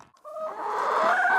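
Chickens cluck inside a coop in Uganda, a close, busy run of calls that starts after a brief quiet moment and grows louder and denser.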